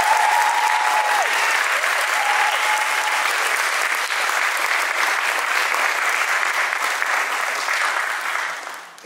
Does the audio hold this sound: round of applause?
yes